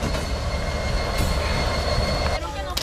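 A freight train, the Mexican migrant train known as The Beast, rolls along the railway with a loud, steady rumble, clanking cars and a brief wheel squeal near the end.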